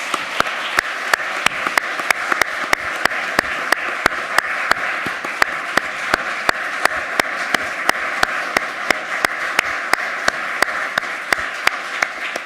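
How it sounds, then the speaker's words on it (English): An audience in a hall applauding two advocates after a courtroom reargument, a sustained even round of many hands clapping, with sharp close claps standing out at a steady beat throughout. "How about a round of applause for our two wonderful advocates?"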